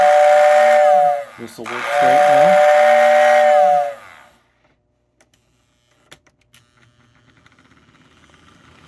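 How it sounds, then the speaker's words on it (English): A 1946 Lionel 224 O-gauge toy steam locomotive sounds its whistle in two long, loud blasts with a brief break, then falls to quiet with scattered clicks as someone speaks briefly. "let's go ahead and watch this train in action"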